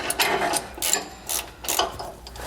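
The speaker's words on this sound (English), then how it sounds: "tighten them down until we collapse the split lock washers here on the frame bracket. We're going to need a 17mm socket for this." A ratchet with a 17mm socket tightens fasteners on a frame bracket for a steering stabilizer on a 2018 Jayco, giving several quick clicking bursts, close and loud, with short gaps between strokes and no talk.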